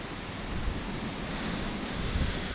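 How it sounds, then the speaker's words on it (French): Strong wind gusting around an abandoned farm, a loud broadband roar buffeting the microphone, steady with slight swells and no voices. "il y a tellement de vent que tout bouge en fait"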